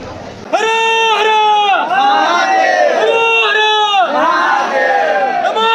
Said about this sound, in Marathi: आपण इथं गर्दी बघू शकता भरपूर गर्दी आहे